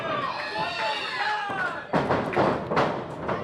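Pro wrestling match with a double sledge strike landing as heavy body thuds, two loud impacts in the second half ringing out over a busy arena crowd and ongoing commentary.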